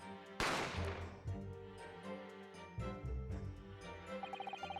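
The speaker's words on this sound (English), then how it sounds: "a gunshot rang in my ears" A single sharp gunshot from a video game, loud and sudden near the start, then ringing and a musical score with a steady beat and chiming notes over a low rumble.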